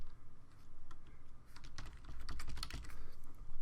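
Fast typing on a computer keyboard, a dense run of close key clicks with short pauses, heard alone over a low room hum.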